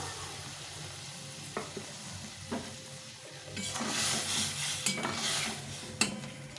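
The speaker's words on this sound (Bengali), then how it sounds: "এখন এই যে সর্ষেটা দিয়ে রেখেছিলাম এই জলটা দিয়ে দেবো" Soaked mustard water poured into a pan of cooking flat beans, giving a steady sizzling hiss that rises midway, with a few sharp clinks and scrapes of a utensil against the pan.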